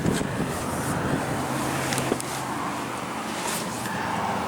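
A 2016 Audi S3 with a 2.0 L turbocharged four-cylinder engine switching off: a steady idle hum cuts out about halfway through, leaving a faint hissy background with no talking.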